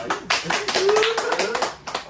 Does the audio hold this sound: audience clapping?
yes